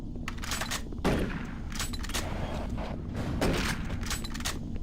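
Sustained gunfire in DOOM 3 on the original Xbox, with bursts around the one- and three-and-a-half-second marks over a continuous bed of game noise, no talk.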